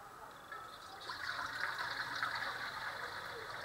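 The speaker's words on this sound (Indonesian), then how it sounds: "Kita masukkan untuk airnya" About a liter of water pours into a cooking pot for making mango sauce, a soft, steady splashing stream that swells after the first second and continues faintly at close range.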